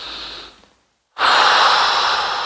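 A person breathes in and then exhales strongly through the mouth during a standing Pilates exercise, a soft inhale fading to silence followed by a loud, close, breathy rush of air.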